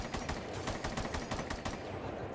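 Rapid automatic gunfire from the video game Rainbow Six Siege, a steady run of close, evenly spaced shots that fills the whole moment with no talking.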